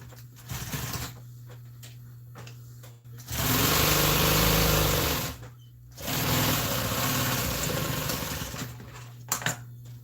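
A sewing machine stitches a custom Polaris seat cover in two sustained, loud whirring bursts, close up, with quieter handling and clicks between and around the runs.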